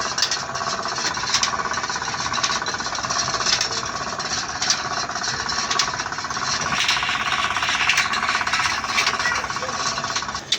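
Large timber being cut on a sawmill saw machine, a continuous loud buzzing whine with a dense mechanical rattle that runs steadily throughout, close and unbroken, with some voices faintly in the mix.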